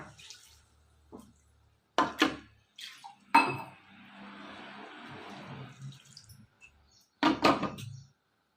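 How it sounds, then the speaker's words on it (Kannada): Water splashes and swirls inside a mixer grinder jar as it is rinsed, between sharp clanks of metal and glass, close up, followed by a pour and a few more knocks. "ಈಗ ಜಾರ್ ತೊಳೆದು ನೀರು ಅದನ್ನು ಹಾಕೋಣ"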